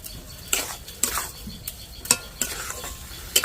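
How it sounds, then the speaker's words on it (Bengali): A spoon stirs chopped carrots and sugar in a pan, giving a series of sharp scraping clacks against the metal at uneven intervals over a faint sizzle, with no talking. "সব কিছু দিয়ে ভালোভাবে মিশিয়ে নেব"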